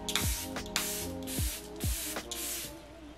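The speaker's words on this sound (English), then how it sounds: "I'm just gonna go ahead and spray my base once more" Setting spray misted over a made-up face in several short hissing bursts, each a quick pump of fine spray, with a steady background hum between them and no talking.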